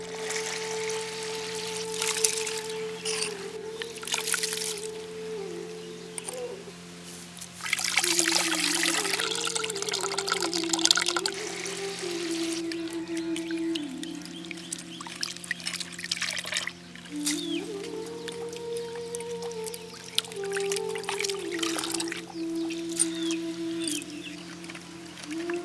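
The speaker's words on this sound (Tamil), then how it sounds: "அந்த கல் எல்லாத்தையும் தனியா பிரிச்சு எடுக்கிறதுக்காக தண்ணி ஊத்தி அரைச்சு எடுத்துக்கலாம்" Water is poured over great millet grains to wash out the stones, making close, continuous trickling and pouring with bursts of louder splashing and swirling liquid.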